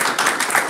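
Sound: audience applause

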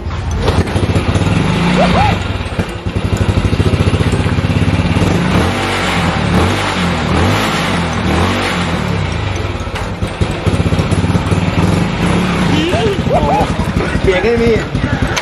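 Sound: Honda Dream Super Cup motorcycle engine running

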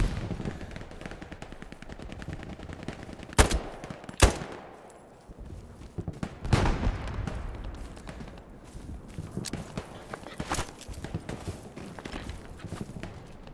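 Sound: gunfire in the video game Hell Let Loose

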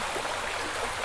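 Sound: washing pots in clear stream water

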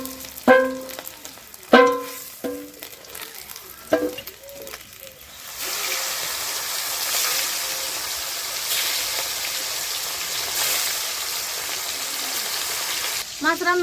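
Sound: frying fish

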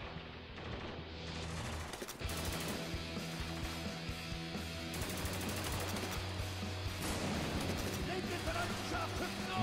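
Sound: gunfire in Spec Ops: The Line video game

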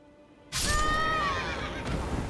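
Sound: horse neighing in video game Elden Ring

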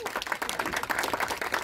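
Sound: audience applause at film event

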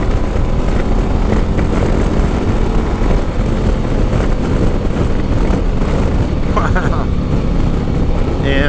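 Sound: Harley-Davidson CVO Street Glide motorcycle riding in third gear

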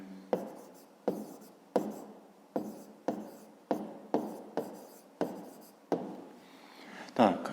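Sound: writing by hand on paper

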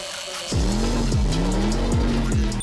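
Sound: old 1980s Lego wind-up toy car running

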